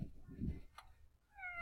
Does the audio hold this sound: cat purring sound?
yes